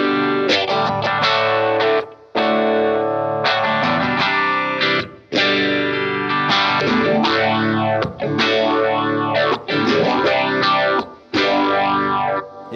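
Electric guitar run through vintage phaser pedals such as an MXR Phase 90, EHX Small Stone and Moog unit, played loud and distorted in repeated chord phrases with brief gaps, the phasing sweeping audibly up and down.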